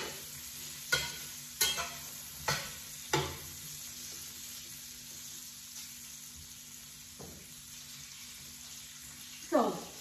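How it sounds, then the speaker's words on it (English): Guanciale toasting in a pan over very low heat without oil, a soft steady sizzle close by, broken by a few sharp utensil knocks and scrapes early on and one more near the end. "I am toasting my guanciale, okay?"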